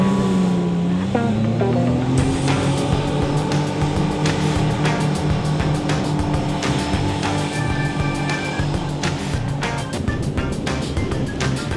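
A Watercar amphibious speedboat-Jeep runs on water, its engine droning and rising in pitch as it accelerates, with splashing, wind buffeting and clicks over a steady motor hum.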